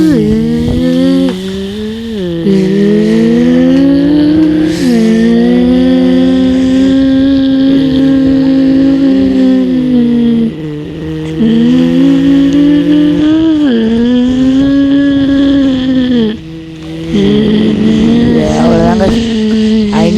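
A motorboat engine in the Roblox game Raft Tycoon drones loudly and steadily for the whole ride, its pitch rising and falling as the boat speeds up and turns, with a brief dip partway through.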